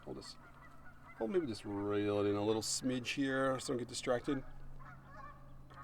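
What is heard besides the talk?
Canada geese honking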